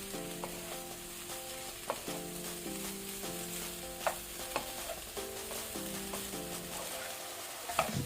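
Cooked rice being stirred and tossed in a hot pan for onion pulao, a steady sizzle with repeated scraping strokes of the spoon and occasional sharp knocks against the pan, close and with no talk.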